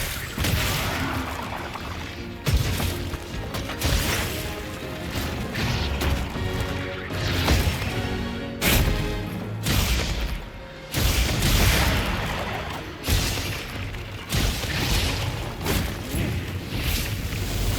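A heavy sneak-attack blow lands on the monster Nursicilla in Monster Hunter Wilds, a loud crashing boom over dense, continuous game music and effects, with several sharp impact bursts through the stretch.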